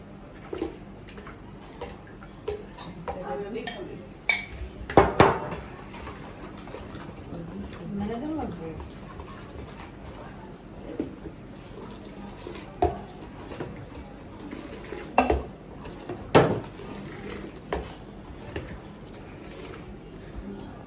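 A spoon stirs homemade milk in a pot as it cools for yogurt, giving scattered soft scrapes and a few sharper clinks against the pot over a quiet background.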